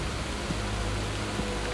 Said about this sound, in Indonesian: akhirnya hujan turun ya